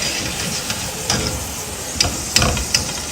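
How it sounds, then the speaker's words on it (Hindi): Sliced okra (bhindi) fries crisp in a pan of hot oil, giving a steady loud sizzle with a few brief sharp crackles and pops scattered through it. "चलिए जी, फ्राई हो रहा है, फिर हम निकालते हैं।"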